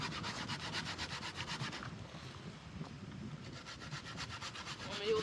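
A coconut is scraped against a hand grater outdoors in Jamaica: rapid, rhythmic rasping strokes, close and steady, with a brief pause partway through.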